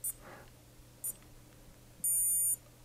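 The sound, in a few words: Casio G-Shock G-7700 stopwatch countdown alarm beeping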